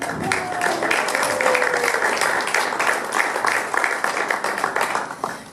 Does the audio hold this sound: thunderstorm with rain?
no